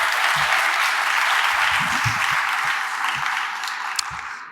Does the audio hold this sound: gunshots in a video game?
no